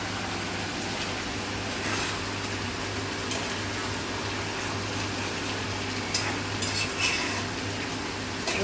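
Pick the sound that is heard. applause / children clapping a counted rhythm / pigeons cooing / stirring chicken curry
stirring chicken curry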